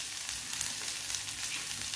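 Onions sizzling and frying in a pan at a steady, close hiss with faint crackles, with no one talking.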